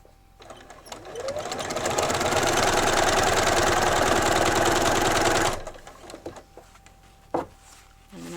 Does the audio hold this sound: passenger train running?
no